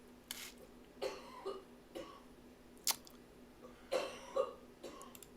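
A few soft, scattered coughs and throat sounds at a distance, spread irregularly over several seconds in a quiet room.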